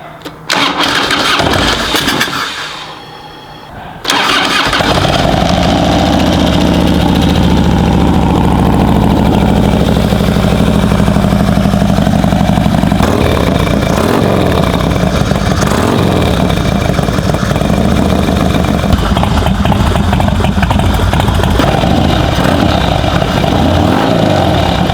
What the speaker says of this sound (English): Cold start on the Harley.